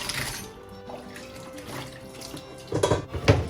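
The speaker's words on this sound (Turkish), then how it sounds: "pişen buğdaylarımızı bir süzgece alıp süzelim." Cooked wheat is poured into a colander to drain, with water splashing and gushing close by and louder bursts of pouring near the end.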